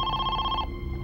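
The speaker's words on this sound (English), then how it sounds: "the phone finally rang." A telephone rings close by in a tense ransom-kidnapping crime story, giving a steady electronic trill over a low background hum before cutting off partway through.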